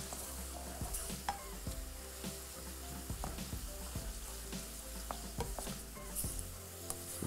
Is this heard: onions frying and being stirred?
yes